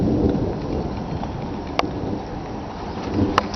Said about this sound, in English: I just love hearing the thunder.